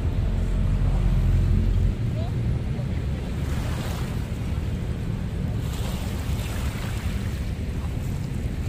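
Ocean waves wash steadily onto Manila Bay's dolomite sand beach, a continuous loud surf roar mixed with heavy wind buffeting the microphone, and a voice speaks faintly beneath.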